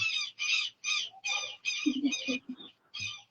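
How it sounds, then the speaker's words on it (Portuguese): Seagulls call in a run of harsh, repeated squawking cries, fairly close and clear, with a few lower croaks mixed in. "Que delícia as gaivotas. Vamos esperar elas irem primeiro."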